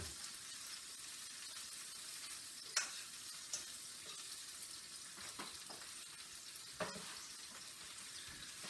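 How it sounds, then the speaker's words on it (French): Potatoes and onions frying in a pan and being stirred, a steady close sizzle with occasional scrapes and clinks of the utensil, no voices. "Je vais brasser mes pommes de terre ainsi que mes oignons."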